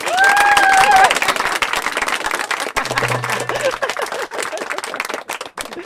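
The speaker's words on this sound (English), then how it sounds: "Oh, you can clap out loud." An audience at a radio broadcast event in San Francisco claps out loud, a dense burst of applause that thins into scattered, irregular claps, with a brief tone and some background murmur alongside.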